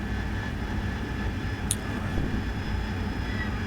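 Steady jet engine drone of an AV-8B Harrier in a flight simulator as the throttle is pushed up, a constant broadband rumble with a faint high tone throughout.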